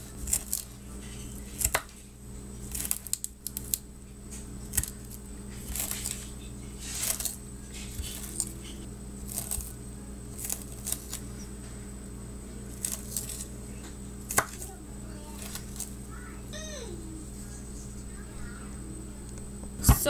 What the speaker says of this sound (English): Now I need to finally chop up the cilantro